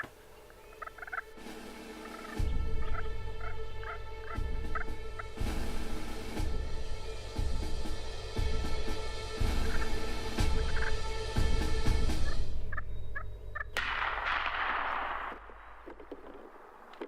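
A wild turkey gobbles in several repeated bursts over a steady low rumble, with a louder noise near the end and no talking.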